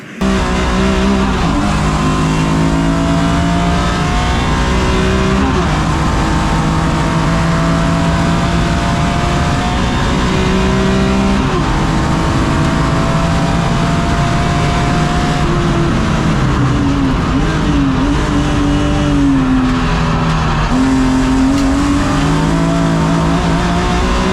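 Historic race cars in a CSCC club race at Silverstone roar loudly across the start-finish line, overlapping engine notes rising and falling as the pack passes close, with no talking over it.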